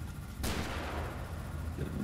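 A single sharp sniper rifle report in Combat Mission Shock Force 2 cracks out, then a long rumbling echo and steady low battlefield ambience fill the rest, with no talking.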